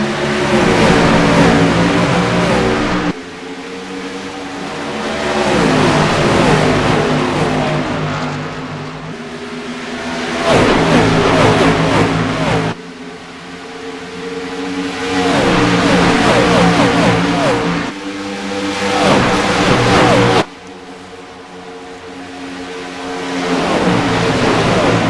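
ICAR Cup race cars roar away at the green flag at Atlanta Motor Speedway, loud engines revving and shifting in repeated rising surges as the pack accelerates past, continuous and close.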